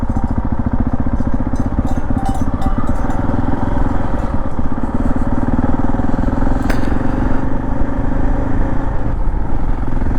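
A Husqvarna 701 motorcycle on a solo touring ride, its single-cylinder engine droning steadily and loudly throughout with constant wind and road noise and no talking.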